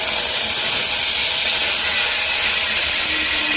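Tomatoes hit a hot pan of tempered spices for a Bengali chutney, setting off a loud, steady, close sizzling hiss that holds evenly throughout without talk.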